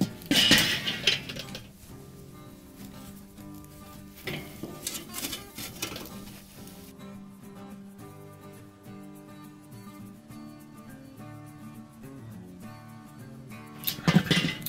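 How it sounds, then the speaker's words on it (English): Pulled pork nachos going onto a Weber kettle grill, with metallic clinks and scrapes of a pan and grate, loud clusters at the start and end and softer handling in between, with no talk. "let's go ahead and get these pulled pork nachos onto the grill."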